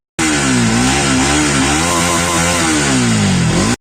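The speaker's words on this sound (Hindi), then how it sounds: "आज मैं अपनी बाइक की साउंड सिस्टम बताऊंगा" A Bajaj Pulsar NS200 motorcycle engine revs up and down close by, a loud, rasping, harmonic roar that rises and falls in pitch through several throttle blips before cutting off abruptly, with no talking.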